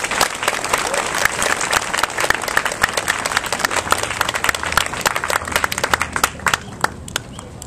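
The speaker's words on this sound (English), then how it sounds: "I would like to give the fourth graders a round of applause" Audience applause for fourth graders at a school ceremony, a dense, steady clapping from a crowd that carries on for the whole stretch with a few sharper claps near the end.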